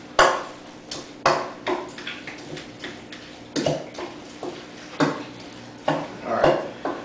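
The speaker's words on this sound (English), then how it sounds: "I want to stir this real quick just to make sure all the avocado pieces are covered with the lime juice" A spoon clatters and scrapes against a bowl as avocado pieces are stirred with lime juice, repeated knocks in a loose rhythm, close and fairly loud with no talk.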